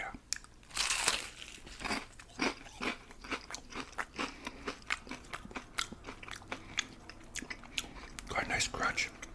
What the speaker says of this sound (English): Got a nice crunch, nice spice.